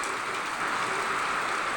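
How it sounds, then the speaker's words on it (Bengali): Heavy rain pours down outdoors in a steady, dense hiss, with no talking over it. "দেখতেই পাচ্ছ প্রচণ্ড বৃষ্টি পড়ছে, আরও বেশি ঝেঁপে পড়ছে"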